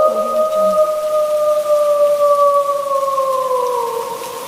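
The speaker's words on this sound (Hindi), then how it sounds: "ये तेज़ तूफानी बारिश" Heavy stormy rain at midnight makes a steady, loud hiss, while long, drawn-out wolf howls glide slowly across it throughout.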